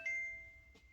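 A faint electronic notification chime sounds once, a thin ringing tone that fades quickly, followed by a soft tap.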